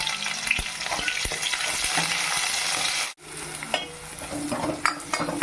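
Onions frying in a pan after mustard seeds have popped, a loud, steady sizzle with stirring scrapes and a brief dropout midway, no voices.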